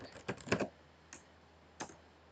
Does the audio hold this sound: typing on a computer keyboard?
yes